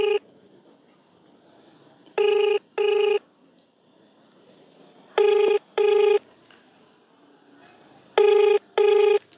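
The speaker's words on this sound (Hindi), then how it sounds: "रिंग जा रहा है।" A telephone rings during an outgoing call, three pairs of double ring bursts spaced a few seconds apart with quiet line hiss between, loud and close.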